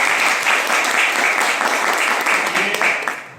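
Loud, dense applause from an audience at a national-level award ceremony during a youth leadership and community training camp, steady claps throughout that fade toward the end.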